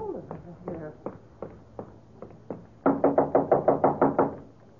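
Knocks strike a door in an old-time radio mystery drama, first several separate raps at uneven intervals, then a loud, rapid burst of about ten heavy pounding blows, close and insistent.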